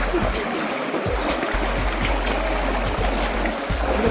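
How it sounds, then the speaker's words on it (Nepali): Floodwater in a Kathmandu neighbourhood on a rainy night pours forcefully through a drain, a loud continuous rushing and gurgling roar with small splashes, close by and without a break. "यो त यता फोर्स छ पानी पुरै"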